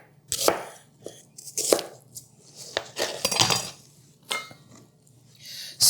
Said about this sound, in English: So I'm just going to slice this here, thinly sliced. Little half moons.